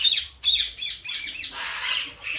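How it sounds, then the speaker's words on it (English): A turquoise violet Indian ringneck parakeet gives loud, harsh squawks close by, several sharp bursts in quick succession followed by a longer raspy call, with no talking. "She's a turquoise violet Indian ringneck."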